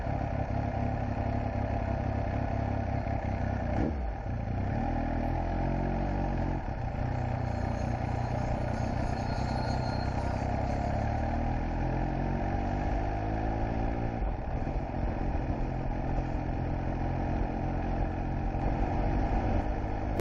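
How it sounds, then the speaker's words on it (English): A motorcycle engine runs steadily at close range, a low throbbing idle with mechanical clatter that holds for the whole stretch, no voices over it. "Listen to the engine."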